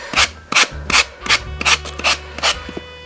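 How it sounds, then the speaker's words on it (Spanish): Sandpaper rubbed against the edge of a wood slice in about eight quick, loud, rhythmic strokes, each a close rasping scrape with brief pauses between. "La colocamos en ángulo de 45 grados y lijamos."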